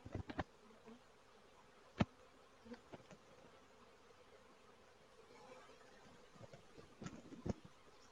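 Honeybees hum steadily around an open hive during an inspection, a faint continuous buzz punctuated by several sharp knocks and clicks from handling the frames.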